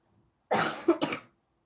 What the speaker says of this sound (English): I just have this strong cough.